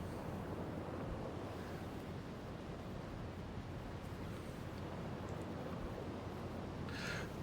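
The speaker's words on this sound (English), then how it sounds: "the small boat is already fighting with the waves" Ocean waves wash against a small Type II submarine in the UBOAT game, a steady broadband rush of surf and wind, moderately quiet and continuous with no talking.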